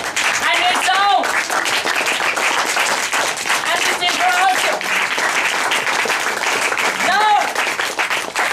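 Audience clapping for a team at a 2012 debate competition, a dense sustained patter of applause running throughout, with a host talking over it.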